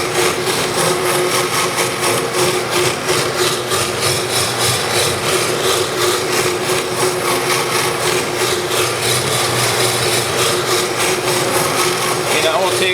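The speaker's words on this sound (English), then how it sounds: "We'll rough it up again with the rasp." A hand rasp scrubs rapidly over a Syncork fishing rod grip in quick, even back-and-forth strokes, producing a close, steady rough scraping that continues without pause.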